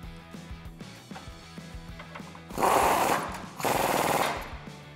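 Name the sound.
tightening Jeep Gladiator bolt with 19mm socket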